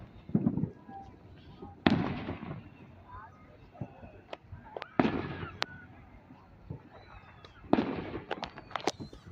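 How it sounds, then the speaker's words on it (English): Independence Day fireworks exploding: repeated booming bursts and sharp crackling pops at irregular intervals, some near and some farther off, with voices talking in between. "The camera seems to get the colors of the fireworks more accurately."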